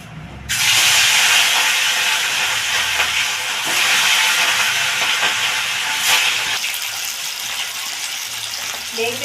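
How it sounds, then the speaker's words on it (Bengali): Pieces of catla fish drop into hot oil in a kadai and set off a sudden loud, broad sizzling hiss that holds steady, with brief surges, and continues without letting up. "তেল গরম হয়ে গেছে এবার মাছগুলোকে আমি ভেজে নেব"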